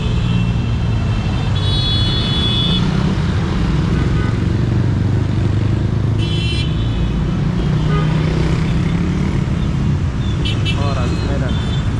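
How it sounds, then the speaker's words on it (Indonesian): Dense afternoon road traffic in Medan, Indonesia, with cars and motorcycles making a steady, loud roar throughout, brief horn toots near the middle and end, and a person talking over the din. "Bising kota Medan nih."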